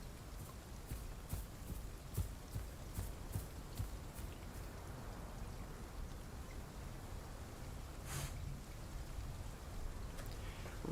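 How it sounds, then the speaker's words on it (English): Rain at night in the dinosaur survival game Path of Titans, a quiet steady patter under a run of regular, faint footstep-like thuds and an occasional brief splash, with no speech. "Raining and nighttime."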